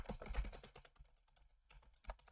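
Typing on a computer keyboard, fast irregular key clicks, faint and close, with a short pause before a few more keystrokes.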